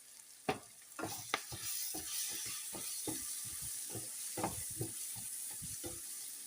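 Onions with green chili and chili powder sizzling and being stirred in a pan, a steady frying hiss with repeated scraping clicks of a spoon against the pan, close and alone.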